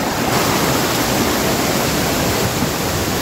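A waterfall roars in a continuous, dense rush of falling water heard from close by, loud and unbroken throughout, with no voices.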